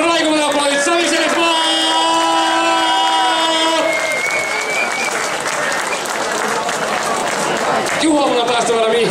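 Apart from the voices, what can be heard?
audience applause for a competitor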